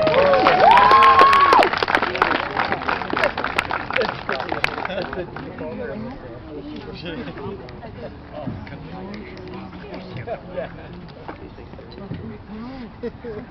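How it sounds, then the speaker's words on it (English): Crowd applause at a skate park grand opening ceremony, a dense burst of clapping that fades after a few seconds, followed by quieter crowd murmur and talk. "round of applause for these guys too"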